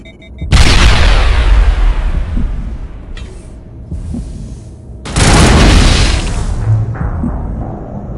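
A grenade detonates in Mass Effect, a sudden loud deep boom with a long rumbling decay, followed a few seconds later by a second heavy blast that also rolls off slowly, close and dominant with no voices.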